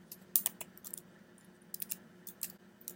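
Keys tapped on a computer keyboard in short irregular bursts of clicks, close and fairly quiet over a faint steady hum, with pauses between the runs of keystrokes and no talking.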